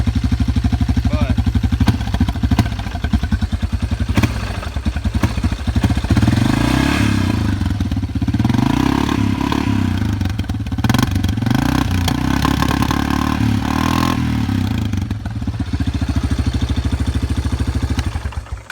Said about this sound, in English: when I go to hit the gas, y'all are gonna hear what I'm talking about, how it bogs down